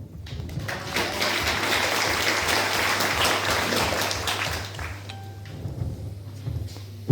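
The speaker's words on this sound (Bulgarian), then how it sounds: "И аз мисля, че те заслужават нашите аплодисменти да ги изпратят." An audience at a political campaign launch in Burgas claps in a dense, sustained burst of applause that swells, holds for several seconds, then thins out into scattered claps.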